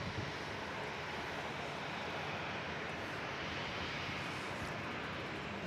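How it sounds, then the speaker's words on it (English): Velocity Boeing 737 Max 8 landing at Melbourne Airport: a broad, steady jet roar sounds loud and unbroken throughout, with no voices. "Next one in is Velocity 92 from Denpasar with a 737 Max 8."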